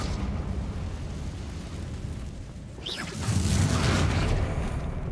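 A Confringo blasting spell goes off in a Harry Potter video game: steady background rumble, then near the middle a burst with a rising whoosh breaks into a louder, sustained roaring explosion.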